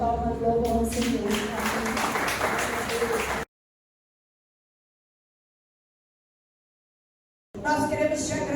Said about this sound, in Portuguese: as palmas louvam ao Senhor